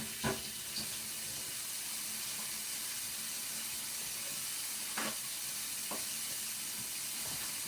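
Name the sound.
turkey burger patty searing in a pan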